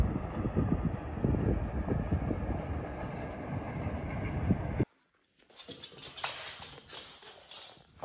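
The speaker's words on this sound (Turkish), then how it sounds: "Tren bile geçiyor." A train rumbles past a home in Kyiv with rhythmic clattering that fades out abruptly, followed by quieter outdoor ambience with faint higher sounds.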